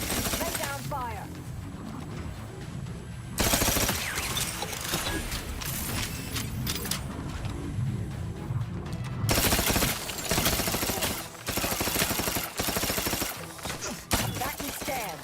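Video game gunfire in The Outer Worlds 2, with loud bursts of rapid automatic shots in several long volleys separated by brief lulls, amid ongoing combat noise.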